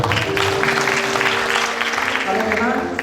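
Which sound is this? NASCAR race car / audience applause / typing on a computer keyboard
audience applause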